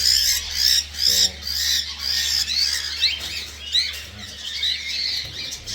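Silver Palo gamefowl squawking repeatedly, a dense run of harsh, raspy calls from several birds close by over a steady low hum.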